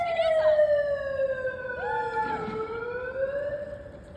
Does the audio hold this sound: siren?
yes